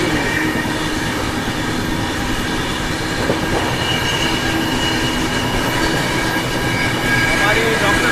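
Duronto Express train rolling through Narkhed junction railway station, a steady loud rumble of wheels and carriages with faint rail squeal and clatter, continuous throughout without a break.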